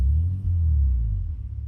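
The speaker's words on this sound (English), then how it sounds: "That was fuel shut off just now." A turbocharged BMW E34 engine during fuel shut-off gives a steady, deep low rumble that fades slightly toward the end. It is close and fairly loud, with no talk.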